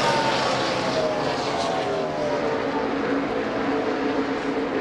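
A NASCAR race car engine with a fault screams at high RPM during a race at Michigan, a loud, continuous, whining roar that sweeps slightly in pitch as it passes.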